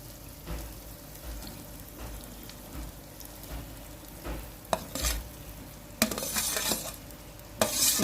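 Parboiled cluster beans sizzle softly in a pan of cooked tomato while a spoon scrapes and knocks against the metal in irregular bursts, faint and close, with no talking.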